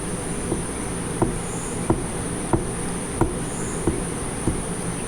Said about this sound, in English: Listen to the front bearing.